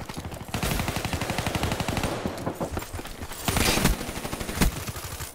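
Rapid automatic gunfire in the video game Call of Duty: Black Ops 3, dense sustained bursts of shots with brief gaps and a louder volley near the end, heard up close without speech.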